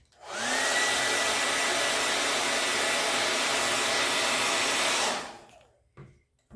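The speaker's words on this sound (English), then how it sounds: "I'm going to dry this a little bit." A handheld dryer blows on a St. Patrick's Day craft piece, roaring loud and steady for about five seconds before spinning down into near silence. No one speaks.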